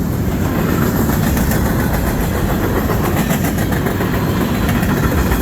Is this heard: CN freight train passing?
yes